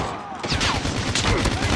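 Gunfire in a multiplayer shooter video game, a loud burst of repeated shots over busy game noise, with a voice briefly present.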